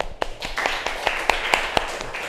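Sharp hand claps in a slow, fairly even rhythm, about nine distinct claps, close and clear over a quiet room.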